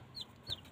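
A hen guarding her chicks gives two short, faint clucks in quick succession at close range.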